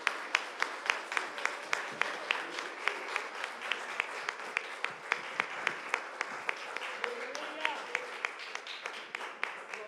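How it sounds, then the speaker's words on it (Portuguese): A congregation at a live church service claps in a steady, regular rhythm throughout, the sharp claps evenly spaced and fairly distant, with soft voices underneath. "As palmas louvam ao Senhor"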